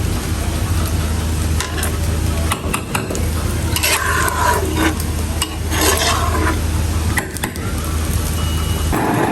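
Khichuri stirred in a pot over heat, a steady close scraping and sizzling that runs continuously with rhythmic spoon strokes.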